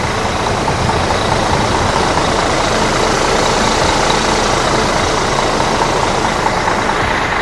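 The engine of a Mercedes-Benz 2542 economy bus runs with a smooth, steady, loud rumble and no breaks or talking.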